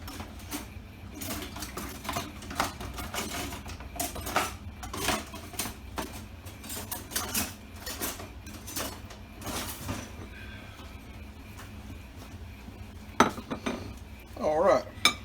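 Chili and cornbread being served onto a plate: close, intermittent clinks and scrapes of a utensil against dishes, with a few sharper clatters near the end.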